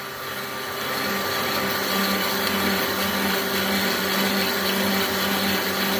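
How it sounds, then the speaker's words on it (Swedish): A hole saw driven slowly by a power drill, a steady close whirring motor drone that swells slightly after the first second and holds constant throughout. "då har vi börjat lite sakta här med att köra en sån här hårsåg"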